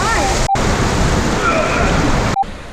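Kanarra Falls waterfall and creek in a slot canyon in southern Utah: a loud, steady rush of falling and flowing water fills the scene, with brief cuts and faint voices mixed in.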